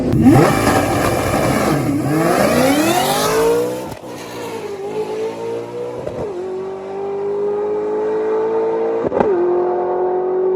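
Drag race car engine revving hard and accelerating through several gear shifts, loud and close with rising pitch sweeps and a brief drop between shifts, no talk.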